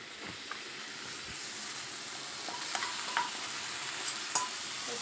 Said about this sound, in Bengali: এখন মশলাটাও দিয়ে দিচ্ছি